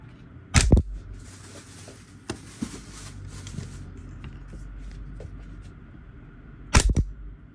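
A WE G18 G4 gas airsoft pistol, Taiwanese-made with a 26-round magazine, fires two short loud full-auto bursts, the first near the start and the second near the end, with quiet handling noise between them.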